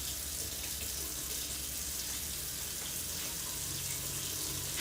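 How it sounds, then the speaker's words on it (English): Hot water runs steadily from a kitchen sink tap, a constant close broadband rush without pauses or speech. "I'm also gonna start running the hot water because my sink takes forever to get hot"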